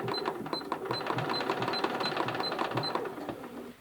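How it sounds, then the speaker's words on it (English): Sewing machine running steadily while stitching with changing needle positions, a continuous close mechanical whir with rapid repeating needle clicks throughout. "I can change my needle positions as I sew"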